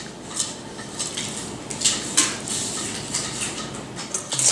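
Red leaf lettuce, pear pieces and walnuts tossed with dressing in a bowl, with soft rustling and a series of light clinks from utensils against the bowl at irregular intervals.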